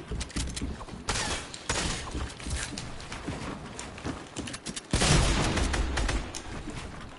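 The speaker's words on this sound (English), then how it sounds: "Oh, who's shooting at me?" Rapid bursts of video game gunfire crackle and pop in uneven volleys, with a louder cluster of shots partway through, close and dense throughout.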